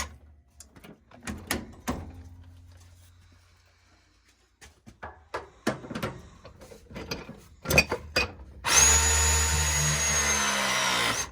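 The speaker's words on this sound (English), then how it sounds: "now I'm just gonna go ahead and press the rest of the 1/2-inch joint" Press tool crimping a half-inch pipe joint during a water heater install: scattered clicks and knocks while the tool is positioned, then a loud steady motorized whine holding for about three seconds at the end.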